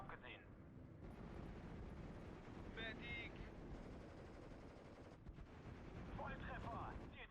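Bombing and artillery fire from the Steel Division 2 strategy game rumble as dense, continuous booms and crackling blasts, a faint voice talking over the battle noise.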